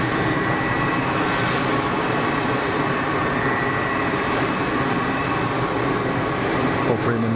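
A heavy airliner rumbles at Geneva Airport as a steady, broad jet roar heard from a distance, continuous over the whole stretch with faint background noise.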